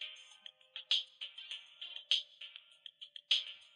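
Quiet, thin tinny audio from a small LM386 amplifier circuit set to a gain of 20, playing a bright, choppy melodic snippet with sharp accented hits; no voices.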